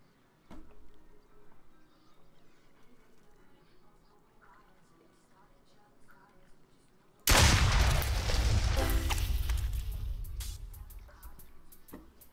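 A loud, sustained burst of gunfire erupts partway through, dense and continuous for several seconds after a quieter stretch of low game ambience and faint clicks in the horror video game Duck Season.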